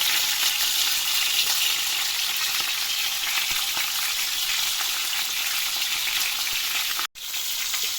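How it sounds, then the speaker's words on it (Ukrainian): A pork steak sizzles in a hot pan with a loud, steady crackle and hiss that fills the whole stretch, cut by one brief dropout near the end, and no one speaks over it. "Ще на одну хвилину залишаю тут піджарити."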